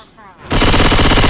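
Machine gun fire in Left 4 Dead: after a brief quiet lead-in, a loud rapid burst of automatic shots rattles on without pause, close and dominant.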